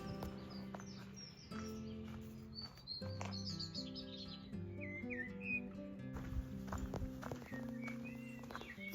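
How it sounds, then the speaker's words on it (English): Birds chirp and sing along a rural English bridle path by a canal, bright high calls scattered throughout over a steady background of music-like tones and occasional hoof-like clops. "Birds serenaded our every step."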